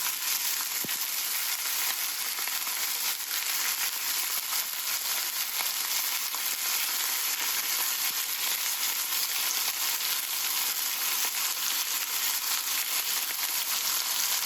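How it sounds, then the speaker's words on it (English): Pork shoulder pieces searing in a hot pan, giving a loud, steady, close hiss of frying that runs unbroken throughout. "We're just trying to get a real nice brown sear on the outside"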